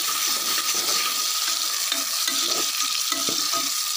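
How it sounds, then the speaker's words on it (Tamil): Onions and chilli frying in a pan for mutton gravy give a steady, close hiss of sizzling oil with light stirring scrapes throughout, and no one talks. "நம்ம இப்போது வெங்காயத்தை போட்டுட்டோம்"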